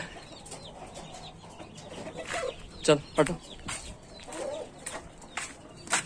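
A hen sunning herself in a poultry yard clucks in short bursts over a quiet outdoor background, with a few sharper calls in the middle; someone talks briefly nearby.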